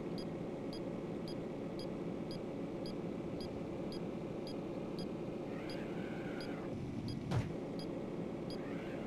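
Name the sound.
car engine in video game The Need for Speed 1994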